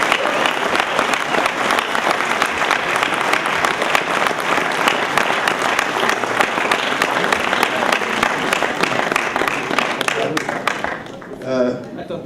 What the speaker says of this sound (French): Vous pouvez l'applaudir très très très très fort.